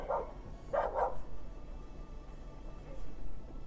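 Two dogs fighting give a few sharp barks close together at first, then a lone fainter yelp later, over quiet outdoor background.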